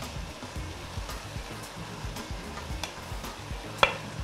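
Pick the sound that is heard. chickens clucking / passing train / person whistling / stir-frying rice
stir-frying rice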